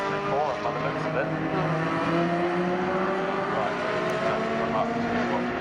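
Race cars from the CSP Championship drive through the Coram corner at Snetterton, with a loud, continuous engine roar and rising and falling pitch as they accelerate. A commentator's voice runs over the engine noise.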